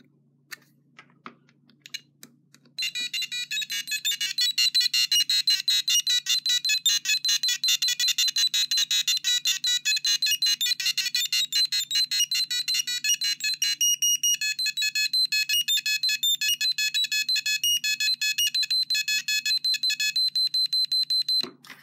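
A handheld logic probe tests the legs of chips on a circuit board, giving a loud, fast, continuous electronic beeping that starts after a few quiet seconds of handling and shifts to a different pitch partway through.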